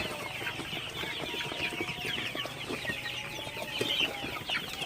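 Sonali super hybrid chickens cluck continuously in a busy flock while feeding at night, with scattered pecking and light rustling throughout, fairly close and steady.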